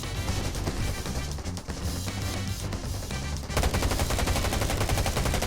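Rapid shotgun and other gunfire in the Garena Undawn survival shooter, a dense run of loud, overlapping blasts that grows heavier and more continuous in its final seconds, alone with no talk.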